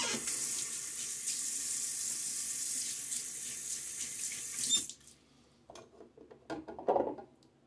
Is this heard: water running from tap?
yes